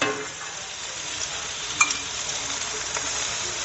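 Sausage and meat brown in a pan with a steady, soft sizzle of frying, broken by an occasional faint scrape of stirring.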